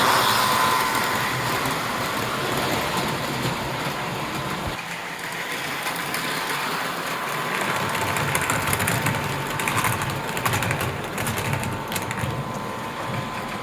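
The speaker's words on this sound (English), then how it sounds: "you can hear as those heavy cars go through this crossover, you can just hear, based on the sound, that not only are they heavy, but you've got a very realistic clickety-clack" Heavy aluminum model passenger cars roll through a track crossover on a layout, a steady mechanical rumble with dense rhythmic clicking that carries on throughout, alone without voices.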